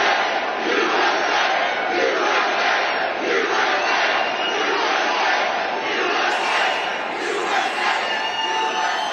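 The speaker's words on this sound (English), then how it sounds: "It sounded like the crowd in Richmond, Virginia actually did like Trump. They gave him a hero's welcome." Large political rally crowd in Richmond, Virginia cheering for Trump, a dense, loud, continuous roar of many voices with rising and falling swells, recorded from within the throng.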